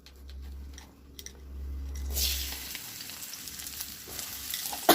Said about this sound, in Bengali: অল্প তেল দিয়ে, তেল হালকা গরম করব, একটু বড় করে কেটে রাখা পেঁয়াজ